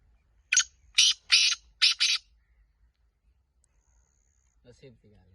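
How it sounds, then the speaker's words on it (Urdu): Partridge (titar) calling in a series of four sharp, loud bursts in quick succession, followed after a pause by brief low voices talking. "یہ تیتر ابھی ہم نے دیکھا ہے"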